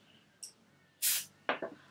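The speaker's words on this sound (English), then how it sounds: "I also bought a Mahogany Teakwood Room Mist, which I'm going to smell like spray right now." A Mahogany Teakwood room mist bottle gives one short, bright hissing spray, preceded by a faint click and followed by soft handling thumps, close and quiet.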